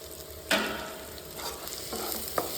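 A prawn curry seasoned with chili powder, coriander powder and garam masala is stirred in a pan, giving faint scraping strokes over a soft steady sizzle, with no voices.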